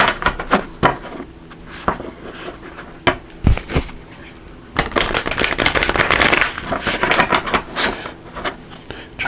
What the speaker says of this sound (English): Trying to shuffle without destroying everything here.